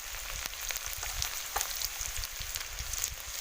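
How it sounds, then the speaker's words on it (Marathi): Onion and garlic tempering fries in hot oil over a wood-fired stove for sprouted mung bean usal, a close, steady crackling sizzle scattered with small pops, with no voices. "कांदा लसणीची फोडणी घालते"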